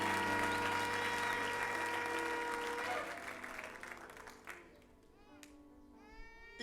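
A church congregation claps for about three seconds during a pastor's sermon, then the applause fades out and scattered voices and faint child sounds remain.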